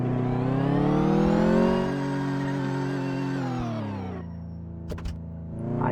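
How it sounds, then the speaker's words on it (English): A car in Car Mechanic Simulator 2014 with a faulty reverse gear, a loud steady whining engine drone that holds, dips slightly and fades out, followed by a couple of short clicks. "I don't like that noise coming out of reverse gear"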